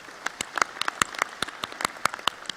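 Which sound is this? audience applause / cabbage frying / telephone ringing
audience applause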